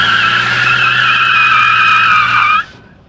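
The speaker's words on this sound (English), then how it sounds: "1, 2. Burnout." Chevrolet Silverado pickup truck doing a burnout, its tires squealing in a loud, sustained high screech with engine roar beneath, held steady for over two seconds before cutting off abruptly.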